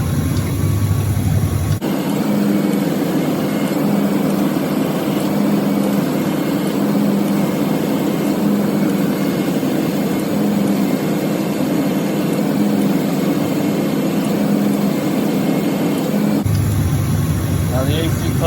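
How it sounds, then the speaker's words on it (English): Car air conditioning running with its compressor clutch cycling on and off in short increments, a steady engine and blower drone with a faint periodic hum rising and falling, close and fairly loud from start to end. "Now the AC clutch is kicking on and kicking off."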